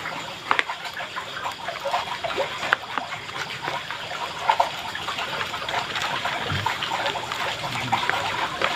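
Water is poured and splashed into a mix of ground fish pellet bait for carp, giving steady close trickling and splattering with a few sharper splashes throughout.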